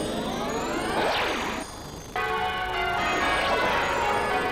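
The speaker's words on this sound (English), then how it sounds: "keep the bells ringing" Bright, ringing metallic church bell tones with long overtones, struck repeatedly, with a brief dip before the ringing resumes loud and full.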